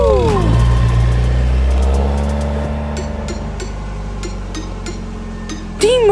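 A car engine idles, then revs and pulls away, loud and steady in the foreground at first before receding, with a voice briefly heard over it.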